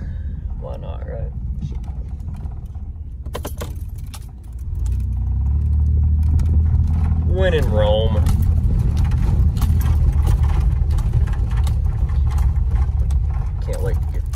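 An old Oldsmobile engine starts a steady low rumble about four seconds in and keeps driving down the road, loud and close, with brief talk and a whistle-like voice over it.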